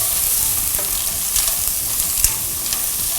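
Striped clams stir-fried in a hot pan for a Thai drunken-style pasta sizzle steadily and loudly, with scraping, stirring clinks scattered through the hiss.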